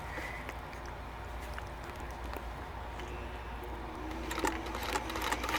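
A sewing machine stitches fabric in a steady, fast mechanical whir that runs throughout, close and moderately loud, with light rustling as the cloth is moved.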